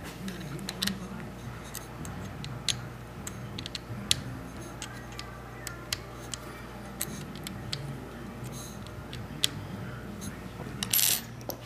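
Small metal clicks and ticks from snugging the cap screws on rifle scope ring caps, scattered irregularly at close range over a faint steady background hum.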